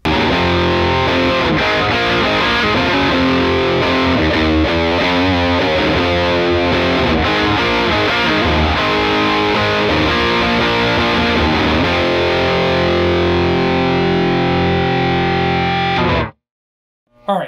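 A heavily overdriven Les Paul electric guitar through a SonicTone Royal Crown 30 British rock tube amp on channel two plays a chugging riff with thick sustained chords, loud and continuous before cutting to sudden silence near the end.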